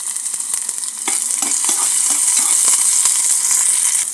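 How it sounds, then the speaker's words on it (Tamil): Small shallots sizzle steadily in hot oil in a pressure cooker, a dense crackling fry that grows a little louder after the first second, with faint scrapes of stirring mixed in. "சின்ன வெங்காயம் போட்டாச்சு போட்டு நல்லா வதக்கிக்கலாம்"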